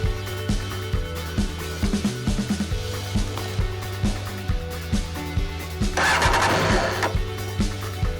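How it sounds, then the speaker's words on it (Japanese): A Honda PC34 CB600F Hornet motorcycle engine turns over briefly on its starter motor, giving a steady, rhythmic mechanical chugging with a louder, rougher stretch near the end. "一瞬セルモーターを回しています"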